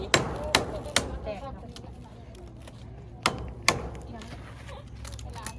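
Hammer blows on a build, probably driving nails on a construction job in Laos: several sharp, loud strikes in an irregular rhythm, a quick pair near the start and another pair later, with background noise between them.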